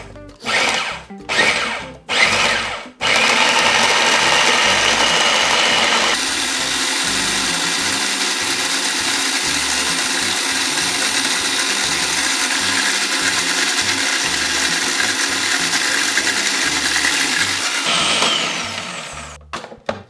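A blender pulses mojo rojo sauce after olive oil and water go in: several short loud bursts, then one long steady grinding whir lasting about fifteen seconds before it winds down, close and dominant with no talking.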